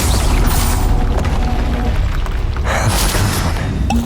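In the Hogwarts Legacy video game, the Descendo spell lands as a loud, rumbling boom with crashing impact sounds. It continues without a break for about four seconds and is heard close and forceful.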